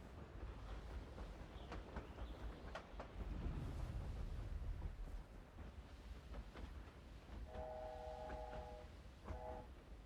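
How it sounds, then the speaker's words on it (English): A train rumbles past in the Hogwarts Legacy video game, a low, continuous rolling rumble with wind-like noise, followed near the end by a few short tonal horn blasts. "I hear a train!"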